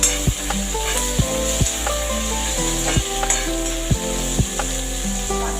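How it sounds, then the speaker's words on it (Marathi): Chopped onion and curry leaves sauté in a hot oiled pan, a steady close sizzle broken by repeated sharp scrapes and knocks of a spoon stirring against the metal. "मग नंतर कांदा घालायचा. परतवून घ्यायचं."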